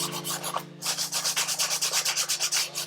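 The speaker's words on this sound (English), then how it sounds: "Use a little bit of sandpaper to scratch the back." Sandpaper rubs the back of guitar parts for a Martin 000-18 build in quick, even back-and-forth strokes, a close rhythmic scratching after a brief pause, over a steady low hum.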